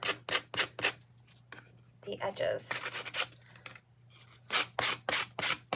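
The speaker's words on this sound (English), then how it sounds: "So I just have one of these little sanding blocks, and I'm just going to take it and go around" A small sanding block rubbed around the edges of a chalk craft piece, giving quick repeated scratchy strokes in short bursts, with someone speaking briefly in the middle.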